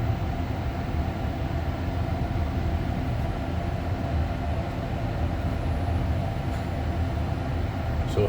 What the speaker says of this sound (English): this is the last REM train of the night in service going towards Montreal, Gare Centrale